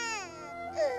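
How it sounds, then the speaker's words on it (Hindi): A child cries in an animated Hindi moral story about a magic hut, a short wavering wail that rises into a higher sob at the end, performed by a voice actor. "लकड़हारे ने झोपड़ी के अंदर जाकर देखा तो एक बच्चा रो रहा था"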